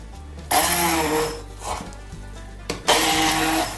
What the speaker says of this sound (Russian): Также все это пробиваю блендером.